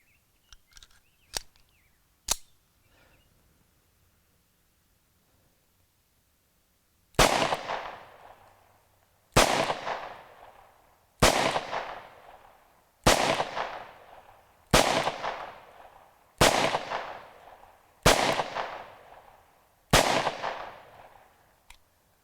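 A Romanian TTC Tokarev pistol fires Romanian surplus ammunition outdoors. A few faint sharp cracks come first, then eight loud, evenly spaced shots, each with a ringing decaying echo. No talking.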